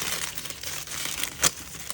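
Plastic piping bag filled with resin squashed and crinkled by hand, soft close rustling and crackling with one sharper crinkle near the end, faint and alone.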